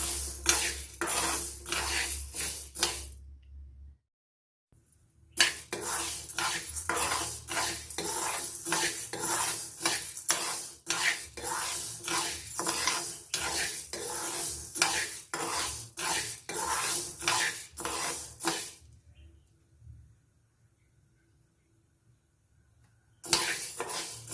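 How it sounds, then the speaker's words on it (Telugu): Moong beans (green gram) being dry-fried in a pan, heard as steady scraping and stirring of the beans against the pan with short pauses, close and moderately loud throughout, with no talking. "మరీ మాడిపోకుండా లైట్గా అయితే ఫ్రై చేసుకోవాలి."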